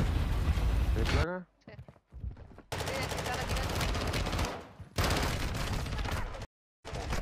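Rapid automatic gunfire in a video game shooter rattles in long, loud bursts separated by brief silences, with a player talking around the shooting.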